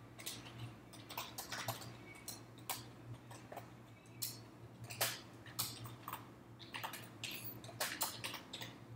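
Java code typed on a computer keyboard, a steady stream of close, crisp key clicks in uneven bursts over a faint constant hum, with no talking.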